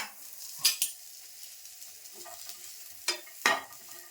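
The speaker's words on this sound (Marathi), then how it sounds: "आता तवा ठेवला आहे तापत आता मी सगळं वाटण मस्त असं एकदम खरपूस असं भाजून घेणार आहे" An onion, coconut and spice paste dry-roasts on a hot griddle, with a faint steady sizzle broken by a few sharp scraping stirs from a utensil close by.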